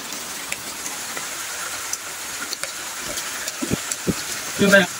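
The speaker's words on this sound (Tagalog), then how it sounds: "Kahit umuulan" Steady rain falls outdoors in a backyard vegetable garden, a constant soft hiss with occasional louder drips and taps, while a person talks nearby.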